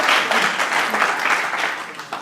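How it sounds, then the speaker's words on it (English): Audience applauding elected officials at a congressional district event, a loud, close, continuous patter of many hands clapping throughout the short stretch. "give them a round of applause"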